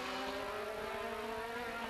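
Formula 3000 race cars at the Nürburgring in 1998 approach at full speed with a loud, continuous, high engine whine that rises slightly in pitch, with no voices.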